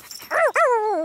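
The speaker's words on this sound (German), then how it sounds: "Böser Hund." A dog gives two quick whiny yips followed by a longer drawn-out whimpering howl, close and fairly loud, with no talk over it, in a Swiss German children's cartoon.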